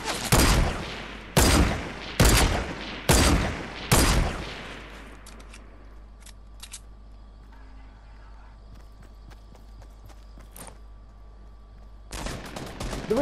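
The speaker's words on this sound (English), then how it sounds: "Oh, I'm being shot at." Rapid gunfire from Fortnite Battle Royale: five loud, close bursts in quick succession, then quiet background game noise with faint distant pops, ending as another burst starts.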